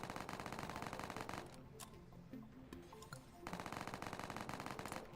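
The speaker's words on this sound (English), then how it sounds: "I'll shoot it off with an SMG." Rapid SMG gunfire in the Roblox video game, a dense, loud stream of shots that fills the first second and a half, drops to scattered quieter sounds in the middle, then resumes as sustained automatic fire near the end.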